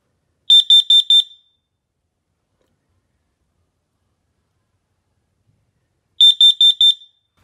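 A carbon monoxide detector under a functional test sounds two bursts of four sharp, piercing electronic beeps, loud and close, with a long silence between the bursts.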